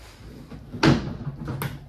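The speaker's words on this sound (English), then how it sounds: "you've got your pull-out trash can with an extra bonus drawer with the paper towel holder" A pull-out trash can drawer with a paper towel holder slides open or shut in the kitchen of a 2024 Keystone Cougar 364BHL fifth-wheel RV. It makes one loud, sharp knock, followed by softer rattles and a small click.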